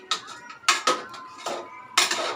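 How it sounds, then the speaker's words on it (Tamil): A spoon clinks and scrapes against a metal pot while stirring meat marinated in yogurt, lemon and salt for biryani, in short irregular bursts, close and fairly loud. "இப்போ இதை கொஞ்சம் நல்லா கிண்டிக்கலாம்"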